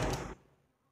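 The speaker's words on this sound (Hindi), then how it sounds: "तो दरवाज़ा बंद कर देते हैं" A door swung shut inside a house, one loud close thud at the start that quickly fades to quiet room tone.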